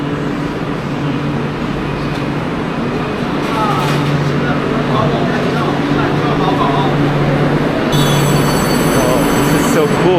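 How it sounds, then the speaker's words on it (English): Trains in Beijing rumble steadily with a continuous metallic rolling hum and faint wheel squeal, loud and close throughout. "look at the trains"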